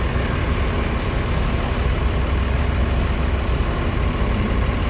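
A Rosalia Indah bus idling before departure, a steady loud low engine rumble with constant broadband drone and no breaks, close by.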